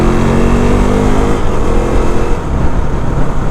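A KTM RC390 single-cylinder motorcycle engine revs loud and close, a harsh continuous drone whose pitch rises then settles, filling the whole stretch with no voices.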